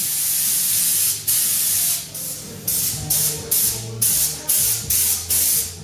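A spray gun lays Raptor liner bedliner onto a 4WD in about nine loud, evenly spaced hissing bursts, each cut off sharply before the next.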